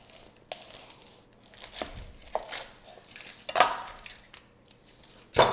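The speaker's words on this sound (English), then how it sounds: "we're just gonna cut the onion in half" A knife cuts an onion in half for a simple stock, with crisp slicing crunches, papery skin crackle and knife taps on a cutting board, close and uneven with short pauses between strokes.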